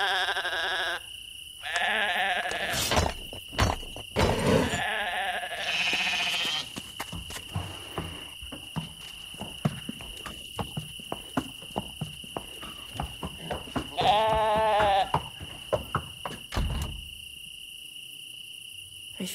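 Sheep in the video game Lost Lands 9 bleat in a few short, wavering calls, spaced apart over a steady background of chirping crickets, with no talking.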